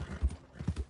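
Horse hooves clip-clop on the ground in the game Red Dead Online. A few soft, low thuds fall in a loose walking rhythm, fairly faint, with no talking.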